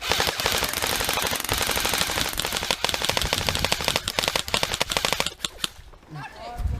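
Airsoft guns rattle in sustained rapid bursts during an outdoor airsoft game, loud and close, dense volleys running for several seconds before easing off near the end.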